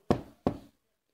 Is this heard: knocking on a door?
yes